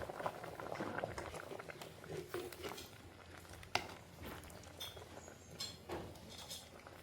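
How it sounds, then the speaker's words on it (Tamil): Fish curry bubbling at a steady boil in a cooking pot, a dense continuous patter of popping bubbles, close and fairly quiet, with an occasional light clink of utensils and no talk. "நல்ல வடிவாக கொதிச்சு அவியுதுங்க நல்ல ஒரு வாசமும் பெருகும்"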